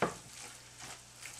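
Shirataki noodles are stirred into ground turkey in a pan, giving a brief, faint, low sizzle with a light scrape at the start.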